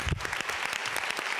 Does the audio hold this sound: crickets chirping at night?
no